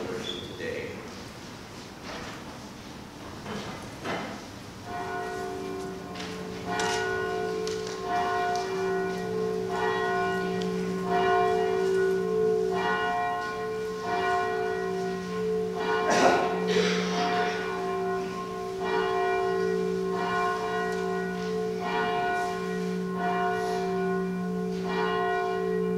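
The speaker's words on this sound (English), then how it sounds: "We may stand for the opening hymn following the ringing of the bells." Church bells ring out before a Sunday worship service, a steady sustained peal of overlapping tolls that swells and continues for a long stretch, with faint room noise beneath.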